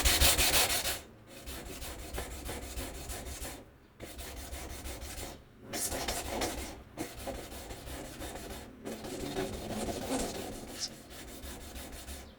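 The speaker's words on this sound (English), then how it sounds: "we just finished the work on the 200 grit stone" A knife is ground on a 200 grit whetstone in steady back-and-forth scraping strokes, close up, with several short pauses between passes and no speech.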